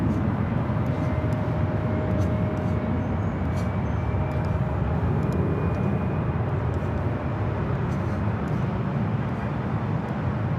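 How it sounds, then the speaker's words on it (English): An Air France Boeing 777-300ER arrives at LAX with a steady, broad jet roar holding at a constant level for the whole stretch, with no voices. "up next is a heavy Air France Flight 24 coming up from Paris, the 777-300ER"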